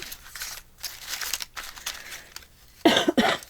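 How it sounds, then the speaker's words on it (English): After a stretch of rustling and crinkling, a couple of sharp coughs burst out close by near the end. "Don't mean to cough. It just happens."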